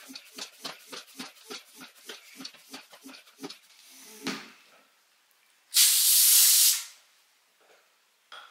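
A pump inflating a tubeless bicycle tyre, a series of rhythmic short strokes, followed after a pause by a loud, sustained hiss of air lasting about a second.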